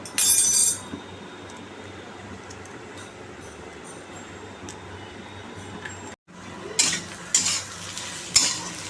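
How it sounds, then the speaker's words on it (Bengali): Eggs frying in a pan with potato, onion and chilli: a continuous soft sizzle, with bursts of scraping and clattering stirring at the start and again near the end, and no talking. "দুখানা ডিম আর এটা একটু ভালো করে ভেজে নিই লাল করে, তারপরে ফাটিয়ে দিয়ে দেবো।"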